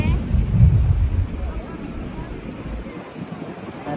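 Wind on Boracay beach buffets a microphone in low rumbling gusts, strongest at the start and easing off, mixed with faint surf; a voice speaks briefly.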